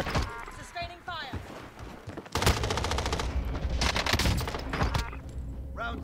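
Sustained automatic gunfire in Warzone, with a dense, loud volley of rapid shots rattling on for several seconds under shouted player voices.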